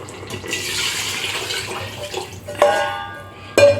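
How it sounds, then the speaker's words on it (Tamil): Water pours steadily for a couple of seconds, splashing into a cooking pot of rice for chicken biryani, followed by two sharp clanks of metal. "இப்போ நான் இன்னொரு அரிசிக்கு ஒன்று அறநூறு தண்ணி ஊற்றுறேன்"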